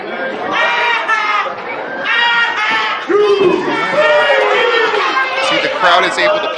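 A crowd at an independent pro wrestling match reacts in a loud, sustained wave of cheering and chatter, with shouts rising and falling throughout.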